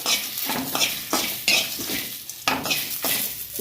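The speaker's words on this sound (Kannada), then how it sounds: "ಜೀರಿಗೆ ಸಾಸಿವೆ ಸ್ವಲ್ಪ ಹಾಕಿ ಒಳ್ಳೆ ಉರಿಯಿರಿ ಮೀಡಿಯಮ್ ಉರಿಯಲ್ಲಿಟ್ಟು ಉರಿಬೇಕು" Cumin and mustard seeds fry on medium heat, a close crackling sizzle punctuated by several rhythmic scrapes and taps of a spoon stirring against the pan.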